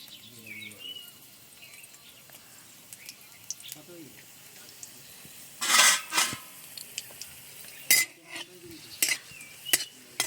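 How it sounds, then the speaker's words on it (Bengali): A few small dry red chillies are stirred in hot white oil in a heated karahi. A faint, low sizzle is broken by several sharp bursts of spatula clatter near the end. "শুকনো লঙ্কাগুলো তেলে একটু নেড়ে চেড়ে নিচ্ছে"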